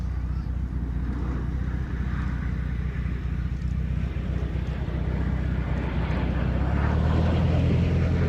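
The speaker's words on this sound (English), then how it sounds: "In from the left for a topside pass." A military aircraft makes a low topside pass at RAF Mildenhall, a loud continuous engine roar holding steady and swelling toward the end, with no voices heard.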